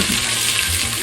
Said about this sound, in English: And then I'm gonna put my onions in there.